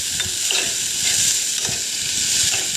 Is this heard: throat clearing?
no